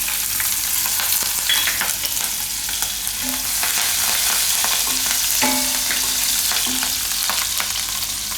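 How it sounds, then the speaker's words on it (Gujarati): Cumin seeds and green chillies frying in hot oil, a loud, steady sizzle with crackling pops and a few stirring scrapes against the pan, no voices. "તો એમાં થોડુંક નાખીશું આપણે જીરું અને લીલા મરચાં."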